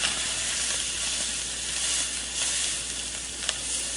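Turmeric powder being stirred into mutton paya soup in a pan makes a soft, steady sizzle with gentle stirring, heard quietly on its own.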